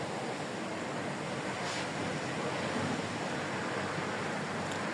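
Unbroken rush of ocean waves along a seafront looking toward Honduras, a broad, even hiss and roar with wind noise on the microphone, steady in level and free of speech.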